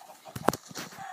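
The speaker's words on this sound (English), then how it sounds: "I've been considering these annoying chickens for a little while now" Chickens in Minecraft Pocket Edition give a short burst of clucking and flapping, with one sharp squawk at the centre, close and moderately loud over a quiet background.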